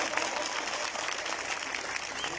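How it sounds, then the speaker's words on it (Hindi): A crowd at a shooting volleyball match between Baloch Volleyball Club sides gives loud, dense applause, a thick continuous clatter of many hands at close range lasting the whole moment. "एक बारी सपोर्ट करा वास्ते जोरदार तालियां"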